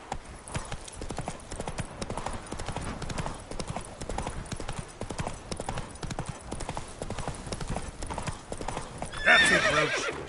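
Roach, a horse in The Witcher video game, trots with steady rhythmic hoof clip-clops over ambient noise, ending in a brief whinny near the end.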